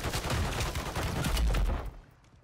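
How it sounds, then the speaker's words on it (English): A shotgun fires in a rapid cluster of booming blasts during a Warzone 3 match on Rebirth Island, loud and close, ending abruptly into quiet. "shotgun"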